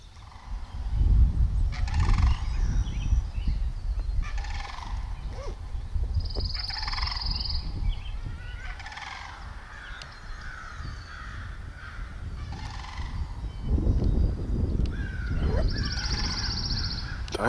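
Wild turkeys gobble repeatedly out in an open field, loud rattling calls coming in several bursts that overlap, with no talk alongside.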